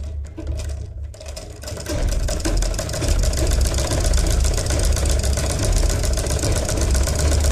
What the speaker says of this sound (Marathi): तर आता इथून आपण शिलाई मारून घेऊयात